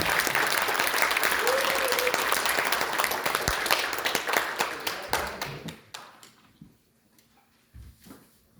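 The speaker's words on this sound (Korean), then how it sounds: "우리 박수 한번 보내주세요" A forum audience at a civic founding assembly claps warmly, the dense applause sustained for several seconds and then dying away into near quiet with a few last claps.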